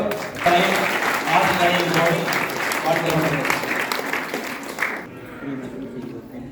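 Audience at a temple honouring ceremony in Germany for a priest breaks into loud, sustained applause, dense clapping that fades out near the end, with a voice speaking over it.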